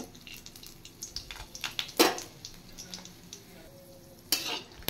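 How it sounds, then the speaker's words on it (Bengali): Dry red chillies fry in hot oil with a light sizzle and spatter, broken by a few sharp scrapes and knocks of a spoon against the pan. "প্রথমে শুকনো লঙ্কা ভেজে নেব।"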